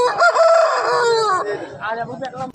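A rooster crows loudly and close by, one long drawn-out call, with other fowl clucking and calling faintly in the background at a village poultry market.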